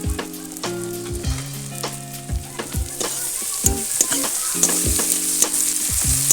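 Garlic and ginger paste fries with onions in a pan for a prawn malai curry, a close steady sizzle punctuated by regular clinking scrapes and knocks of a spatula stirring the mix.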